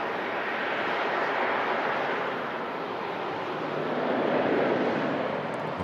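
A Qatar Dreamliner departing Manchester Airport makes a broad, steady jet roar that swells slightly toward the end, with some wind noise on the microphone and no voices.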